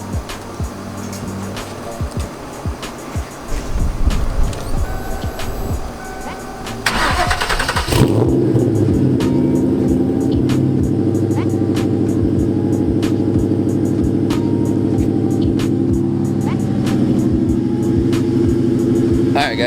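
A nitrous-equipped Ford Mustang V8 engine cranks and fires up around the eight-second mark, then settles into a loud, steady, rumbling idle that continues to the end.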